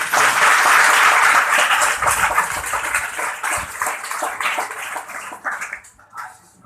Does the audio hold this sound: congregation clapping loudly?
yes